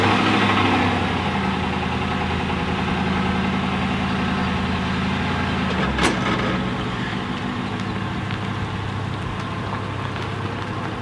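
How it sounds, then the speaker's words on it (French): The V8 engine of a 2010 Ford Crown Victoria idles with a steady, low, even rumble throughout, broken once by a brief sharp click midway, then settling back to the same smooth drone. "démarrage de la voiture"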